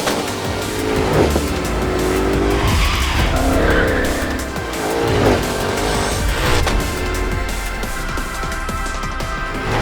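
A Ford Mustang GTD, the road-legal car derived from the Mustang GT3 racer, skids hard on a test track, its tyres squealing loudly and continuously over a roaring engine for the whole stretch.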